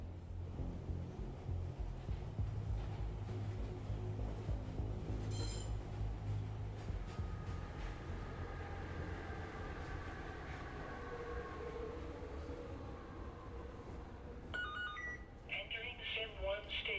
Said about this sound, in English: We are now pulling into the rail station.